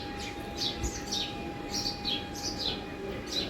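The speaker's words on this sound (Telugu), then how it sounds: "చెట్టు పైన కూర్చున్నట్టునే 4-5 పక్షులు ఇట్లా అల్లరి వేస్తూ ఉంటాయి." Several small birds chirp noisily in a tree on a morning, quick high tweets in clusters from a short distance, fairly faint over a steady background hum, with no talk.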